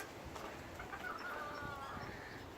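Chickens cluck softly at bedtime on a smallholding, a faint, steady murmur of low calls over quiet outdoor background noise.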